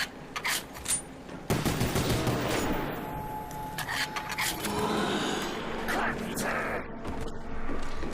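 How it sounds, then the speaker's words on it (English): Pistol gunfire rings out in the Call of the Dead zombies map of a video game: several sharp shots and rapid bursts over a busy, noisy game background. "Use a bit of the pistol ammo on him."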